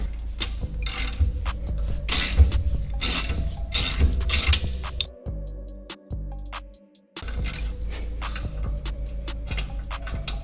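A ratchet wrench clicks rapidly and loudly while loosening an 18 mm rear brake caliper bolt on an LBZ Duramax truck, in close repeated bursts with a short pause midway.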